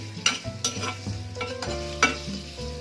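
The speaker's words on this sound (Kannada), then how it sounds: "ನೋಡಿ ಈಗ ಈರುಳ್ಳಿ ಫ್ರೈ ಮಾಡ್ತಾ ಇದ್ದೀನಿ" Onions fry in a pan for a spicy red chutney, a soft steady sizzle broken by sharp clinks and scrapes of a spoon stirring against the pan, with no voices.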